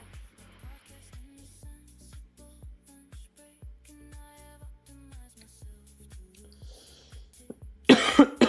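A run of short, regular coughs repeating roughly every half second in a quiet room, close to the microphone, ending in a louder burst of noise.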